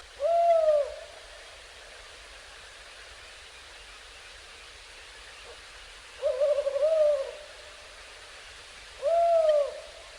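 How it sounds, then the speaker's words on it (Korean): An owl hooting at night near a mountain temple, three clear tonal hoots spaced several seconds apart, fairly close and loud over a soft steady background hiss, with no other voices. "야행성인 올빼미는"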